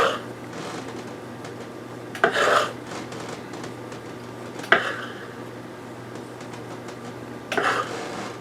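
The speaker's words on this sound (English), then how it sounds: "We're going to cut some kind of thick slices here. I'm using a serrated blade here to make nice smooth cuts." A serrated knife saws through thick cinnamon brioche bread in a kitchen, with three or four distinct rasping strokes spaced a couple of seconds apart, close and moderately loud over a quiet background hum.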